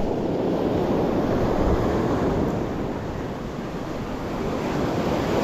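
A set of sea waves breaks on the shore in a steady, loud, rushing roar with wind noise and no talk.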